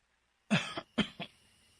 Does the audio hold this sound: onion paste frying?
no